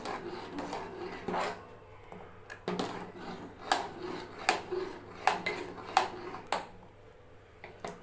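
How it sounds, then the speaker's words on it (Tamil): Urad dal porridge with jaggery is stirred in a pot, giving repeated rasping scrapes and soft knocks of a spoon against the vessel in an irregular rhythm, close and fairly quiet. "கிண்டிக்கிட்டே இருங்க இல்லைன்னா கட்டி விழுந்துருங்க"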